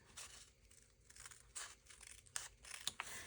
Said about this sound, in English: Let's get my scissors and do that.